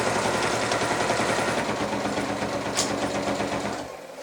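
A sewing machine runs in a fast, steady mechanical chatter while backstitching the strap of a tote bag, close and continuous, then slows and fades away near the end.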